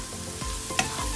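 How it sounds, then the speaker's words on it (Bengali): Garlic frying together with onions in a pan, with a soft steady sizzle and a few short stirring scrapes close by, alone without talk. "রসুনটাও আমি একটু ভেজে নিতে চাচ্ছি, এতে রসুনের ফ্লেভারটা সুন্দর আসবে।"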